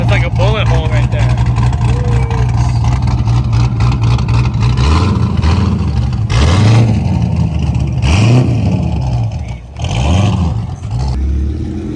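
A car with an LS engine and a big cam at a weekly car meet, revving loudly with a lumpy, rising and falling engine note several times, close by and under people talking.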